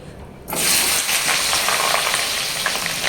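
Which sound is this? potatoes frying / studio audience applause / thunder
potatoes frying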